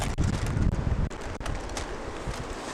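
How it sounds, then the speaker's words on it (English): Wind blows hard outdoors at a cooking spot, producing steady close rumbling microphone buffeting with gusty surges and rustling, and no speech. "it's fucking windy here"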